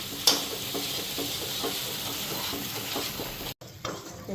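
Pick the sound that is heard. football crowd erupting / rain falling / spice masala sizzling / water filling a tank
spice masala sizzling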